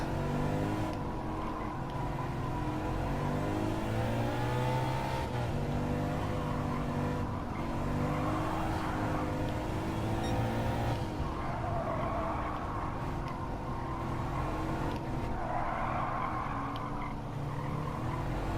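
A Subaru WRX in Gran Turismo 7 oversteers under braking, its tyres skidding and squealing over a steady engine drone that rises and falls through the run, loud and continuous.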